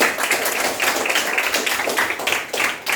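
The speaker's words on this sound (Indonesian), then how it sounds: "Tepuk tangan ya." Schoolchildren and guests at an elementary school in Kupang clap in a fairly close, brisk burst of uneven handclaps that continues for a few seconds.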